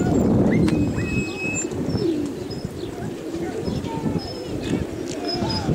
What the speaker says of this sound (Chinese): 这甘丹寺门口全是鸽子